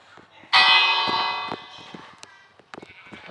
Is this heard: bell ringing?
yes